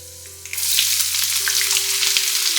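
Peanuts and cashews fry in hot oil in a pan for upma. A loud, steady sizzle starts suddenly and carries on, with small crackles over a low hum and no voices.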